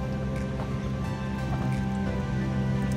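Rain falls steadily around a snail-raising water tank area, a constant dense patter with a low rumbling hum beneath it and no clear gaps.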